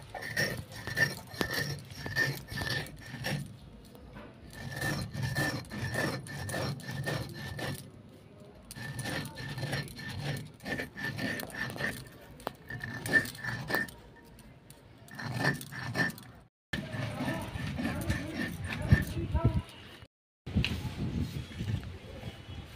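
Sugar crystals are ground into powder in an electric grinder, a gritty whirring rattle that runs in several bursts of a few seconds each, separated by short pauses.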